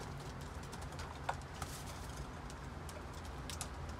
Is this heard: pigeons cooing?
yes